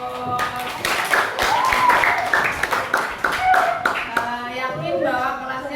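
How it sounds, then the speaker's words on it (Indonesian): Schoolchildren in a classroom clap in applause for their class, a dense patter of hands layered with overlapping children's voices and chatter throughout. "Iya, boleh berikan aplaus"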